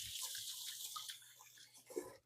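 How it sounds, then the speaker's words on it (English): Running tap water pours steadily into a sink as hands are rinsed in a home kitchen while cooking beef stew, a soft continuous hiss with a brief splash near the end, heard alone. "Let me give my hands a quick rinse."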